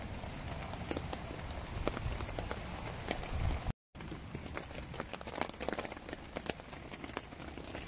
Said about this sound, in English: till the rain eases off a bit